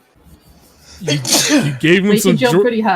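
A single sharp human sneeze bursts out about a second in, loud and close, with people talking right after it during a live tabletop Dungeons and Dragons game.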